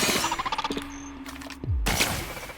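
Gunfire from The Outer Worlds video game, heard as a quick run of sharp bursts followed by a couple of heavier shots, with no one talking.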